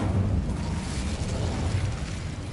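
Incendio fire spell cast in Hogwarts Legacy, heard as a loud, sustained fiery whoosh and rumbling burst that fills the whole moment without pause, with no voice over it.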